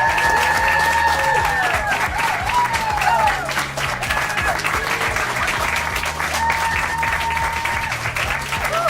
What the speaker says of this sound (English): So everyone, let's clap and welcome John Mathai.